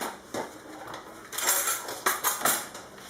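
Metal cutlery rattles and clinks as a spoon is pulled from a drawer in a home kitchen, several sharp jangling bursts close by with short pauses between them.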